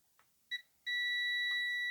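An electrical continuity tester on an Alba appliance beeps as its probes touch a connection: a short electronic beep, then a steady, loud, unbroken tone that holds to the end.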